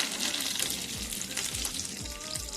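Whole spices and dried onion sizzling in hot oil with coriander in a pan, a steady close frying hiss punctuated by soft regular knocks of stirring.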